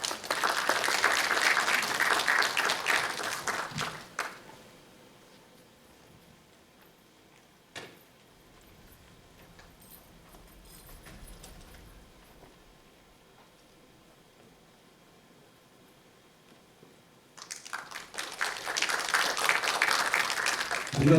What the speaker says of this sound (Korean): 나오실 때 큰 박수로 환영하시겠습니다.